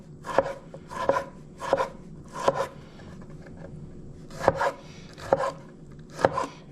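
A knife chops a tomato into long pieces on a board, seven sharp, crisp cuts in uneven clusters with short quiet gaps, close and alone without speech.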